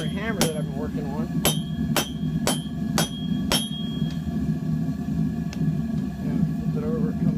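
A blacksmith hammers hot steel at the forge to draw it out into a hammer handle, six ringing metallic strikes in a quick series, then lighter taps over a steady low rumble.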